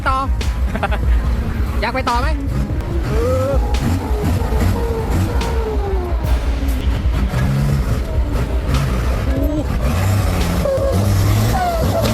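An off-road earth-moving truck churns through slushy mud with a heavy, continuous engine roar, grinding and the occasional hiss of air brakes. A voice speaks over the vehicle noise nearly throughout.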